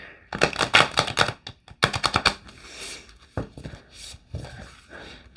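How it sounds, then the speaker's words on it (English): A new deck of oracle cards is riffled and shuffled by hand in several separate bursts of rapid, crisp clicking, close up, with short pauses between rounds. "I'm going to keep trying to shuffle these in the other ways."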